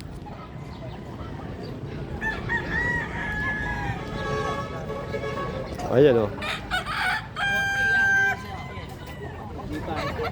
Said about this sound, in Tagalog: Nandito rin maraming manok.